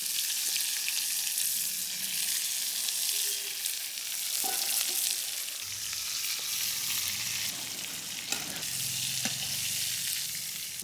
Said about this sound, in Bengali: বেগুনটা একটু হালকা ভাজিয়ে নেবো।